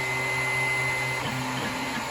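A 3D printer laying down the skirt at the start of a print runs steadily and close by, with stepper-motor whines shifting pitch as the head moves over a constant fan hiss.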